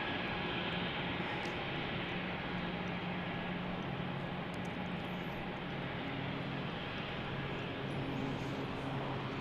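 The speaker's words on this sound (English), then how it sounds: "our next departure here on runway 34 right" An airliner departing runway 34 right at Salt Lake City airport, a continuous, fairly loud engine roar with steady low tonal hums and no talking.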